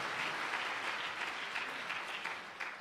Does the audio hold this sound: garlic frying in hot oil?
no